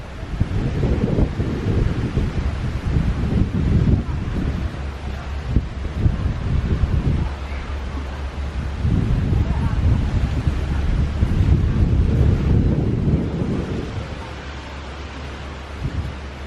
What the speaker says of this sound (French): j'ai trouvé la petite plage secrète des Thaïs